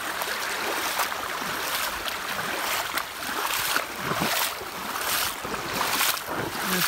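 Floodwater rushing over a driveway bridge, a steady broadband roar of turbulent water with gusting wind, continuous and fairly loud with no talk.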